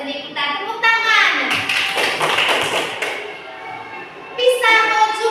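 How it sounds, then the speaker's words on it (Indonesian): Children clap in unison in an elementary school science classroom in Indonesia, a short, close burst of quick hand claps set between stretches of an adult talking. "Tepuk tangan."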